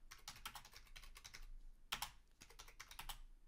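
Keys clatter on a computer keyboard as a letter is typed in Windows 10, in quick irregular bursts with a few brief pauses and one sharper stroke, close and fairly quiet, with no voices.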